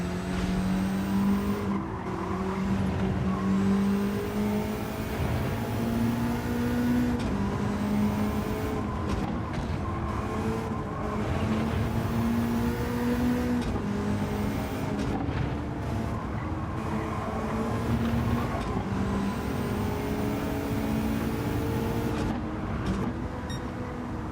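Race cars in the video game Gran Turismo 7 on sports hard tyres, their engines droning and rising and falling through gear changes, with occasional tyre squeal, loud and unbroken throughout.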